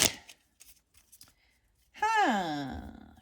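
A tarot deck is shuffled by hand, giving faint, scattered papery riffles and soft clicks, followed by a voiced sigh or groan.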